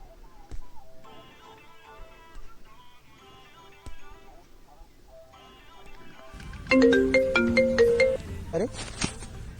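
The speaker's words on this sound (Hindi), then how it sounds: "अरे पापा का फोन आ रहा है।" An incoming call plays a phone ringtone as a steady run of melodic electronic tones. It gets noticeably louder and busier toward the end, and background voices can be heard under it.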